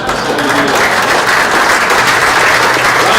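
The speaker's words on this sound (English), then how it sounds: "applause for Net Impact" Loud, dense applause from a university ethics symposium audience honoring the Net Impact and Delta Sig student chapters, a sustained even roar of many hands clapping close by.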